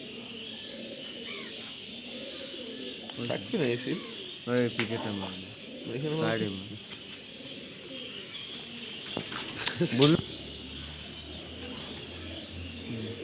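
Pigeons coo softly in the background while their legs are being stamped, as people talk in Bengali close by.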